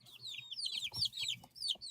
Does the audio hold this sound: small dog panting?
no